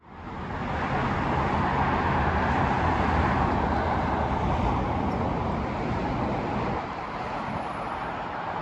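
Cars passing on a hot street in Kuwait make a constant broad wash of road noise that swells in at the start and holds steady, easing slightly toward the end.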